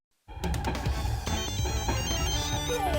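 An electronic phone ringtone plays in the arcade office game Office Yeoin Cheonha. The bright melodic tones start abruptly after a moment of silence and continue steadily and loudly.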